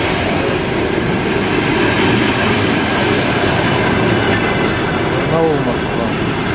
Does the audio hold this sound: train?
yes